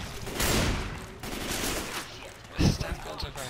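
Automatic gunfire from Left 4 Dead 2, a zombie co-op shooter, rattles in dense bursts. A heavier thump lands near the end, and players' voices mingle with the shooting.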